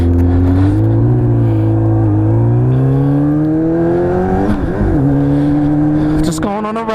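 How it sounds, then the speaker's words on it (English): A Kawasaki ZX7 street motorcycle engine on a ride, humming steadily loud and close with smooth rising and falling pitch as the throttle changes, while someone talks over it. "Just going on a ride today on my trusty ZX7"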